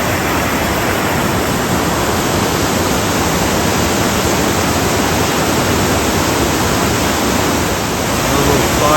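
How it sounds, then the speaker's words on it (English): Rogie Falls in Scotland pours with a dense, unbroken rushing roar, loud and close, holding an even level throughout with no voices over it. "And there is Rogi Falls."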